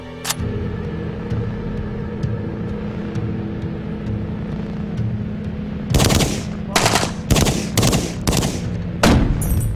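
AK47 and M16 rifles fire fully automatic bursts at a target, several sharp rapid strings of shots after a quieter stretch with one early shot, loud and near against a steady background rumble.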